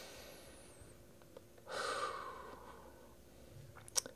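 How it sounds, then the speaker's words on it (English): One slow, audible deep breath, a soft broadband rush that swells and fades on its own, ending with a faint click. "just maybe take a deep breath."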